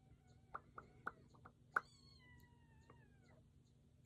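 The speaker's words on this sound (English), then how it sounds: "Hear the kittens" Kittens meow in a handful of short, thin cries spread across the moment, one longer wavering call standing out, close by over a low steady hum with no talking.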